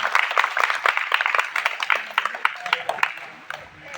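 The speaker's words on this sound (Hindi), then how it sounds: "सर जी के लिए पहले जोरदार ताली बजाएं" An audience of schoolchildren claps loudly and quickly for a teacher, a dense, steady burst of hands that thins out toward the end.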